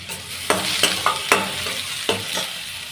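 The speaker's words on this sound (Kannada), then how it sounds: "ಇದನ್ನು ಚೆನ್ನಾಗಿ ಫ್ರೈ ಮಾಡಬೇಕು, ಸ್ವಲ್ಪ ಸಾಫ್ಟ್ ಆಗಬೇಕಿದು, ಆ ರೀತಿ ಫ್ರೈ ಮಾಡಿ" Egg curry frying in a pan: a steady close sizzle with several sharp stirring scrapes of a spoon against the pan at irregular intervals, no voices.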